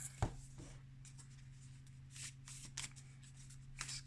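A deck of Mystical Shaman Oracle cards is shuffled by hand up close, giving soft, papery riffles and slides in short bursts over a quiet low hum.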